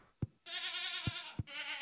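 Goats in the Stardew Valley farming game let out short, nasal bleats, a long sustained cry and then another, fairly close, with soft clicks between calls.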